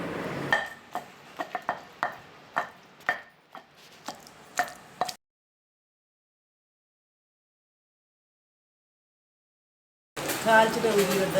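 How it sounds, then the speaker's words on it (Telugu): Tamarind pounded in a mortar for an old-style chutney, about a dozen sharp rhythmic thuds close by, then a long silence before a short burst of busier noise. "చింతపండు వేసి దంచుతున్నా"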